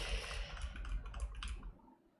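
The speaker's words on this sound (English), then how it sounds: "K3 Pro. This is a full ginormous keyboard." Typing on a Keychron K3 Pro, a full-size low-profile keyboard, gives a quick run of soft, close key clicks over a low room hum, then stops; no one speaks.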